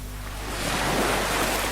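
Sea waves surging as a boat sets sail, a broad rushing wash of surf that swells and stays steady, heard alone without any talk.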